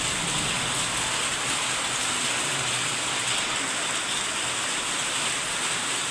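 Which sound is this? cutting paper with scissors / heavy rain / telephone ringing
heavy rain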